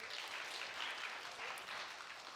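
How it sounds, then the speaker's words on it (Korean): A church congregation at a Christmas Eve service claps together, a soft, even wash of many hands heard at a distance and held at a low, steady level. "박수 한번 합니다."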